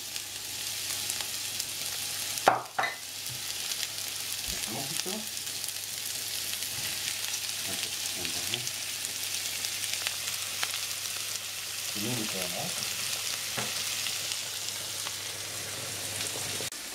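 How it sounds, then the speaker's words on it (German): Steady sizzling of onions and garlic frying in a pan, with occasional louder crackles and brief stirring scrapes, no talking. "Jetzt machen wir zuerst die Zwiebeln separat anbraten mit dem Knoblauch"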